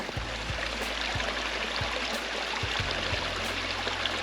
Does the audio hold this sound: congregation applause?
no